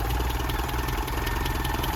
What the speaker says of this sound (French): Et on a cette mécanique qui tourne vraiment de façon très harmonieuse.